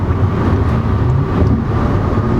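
A 2020 Toyota Camry TRD engine accelerating in sport mode, a steady loud low rumble with a constant drone heard from inside the car.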